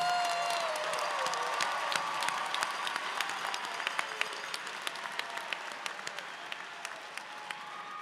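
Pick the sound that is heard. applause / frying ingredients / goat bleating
applause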